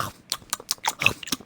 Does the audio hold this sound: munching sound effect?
yes